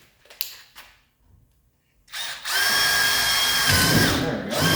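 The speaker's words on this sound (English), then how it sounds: "I'm going to try drilling into here." A power drill bores a hole in a small part for a hot-rodded BMW 2002. A couple of brief taps come first, then a sharp, loud, sustained whine of the bit cutting metal close by, with no talk.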